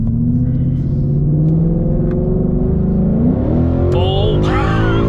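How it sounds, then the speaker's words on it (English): An E85-fuelled Ford Mustang GT pulls hard with traction control on, its V8 rumbling loudly from inside the car and climbing steadily in pitch through the gears, with a brief shift near the end before it revs up again. "Let's do a U-turn and do a mini pull with the traction control on."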